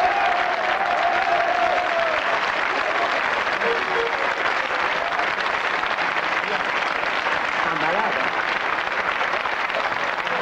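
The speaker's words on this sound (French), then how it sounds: "Il s'applaudit lui-même." Studio audience on a French TV panel show applauding steadily, a broad, even wash of clapping that carries on for around ten seconds, with faint voices underneath.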